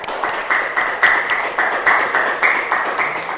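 A class of students claps for a group that has just given a presentation. The clapping is fairly loud, quick and rhythmic, a steady patter of hands that lasts a few seconds.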